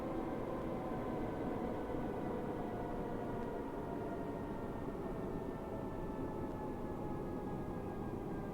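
A Class 314 electric train drives the upgraded Glasgow Cathcart Circle in Train Sim World 4, giving a steady, continuous rumble and hum that holds at an even level throughout with no voices.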